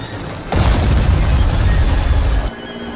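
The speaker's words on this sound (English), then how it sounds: "Bombardment incoming." Orbital bombardment in the Star Wars: Empire at War mod Fall of the Republic: a sudden loud, dense rumbling blast that sustains for about two seconds, then drops back to a quieter background.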